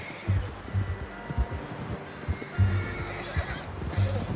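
A horse in Red Dead Redemption 2 whinnies and snorts repeatedly with low, throaty calls, accompanied by soft hoof clops and a steady background hum.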